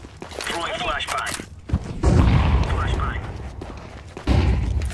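Gunfire in a tactical shooter video game such as Valorant or CS2, a few booming shots and thuds mixed with game noise, with a player talking over it.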